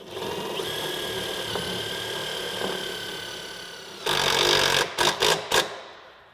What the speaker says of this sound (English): set the center self-tapping screw